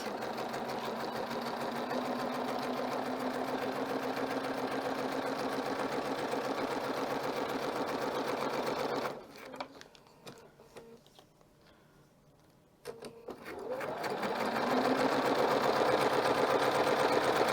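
A sewing machine runs steadily while backstitching a cover for a thread spool rack, a close, even mechanical whir that briefly drops away to near quiet before resuming at full speed.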